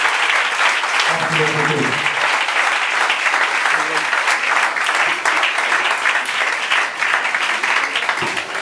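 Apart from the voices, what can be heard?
applause at an ordination ceremony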